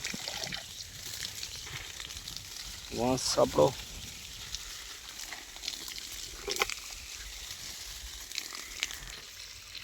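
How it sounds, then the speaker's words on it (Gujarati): Water flows from a pipe to irrigate trees in an orchard, making a continuous hissing rush, while someone talks briefly over it. "આપણે ઝાડવાને પાણી પાઈ રહ્યા છીએ"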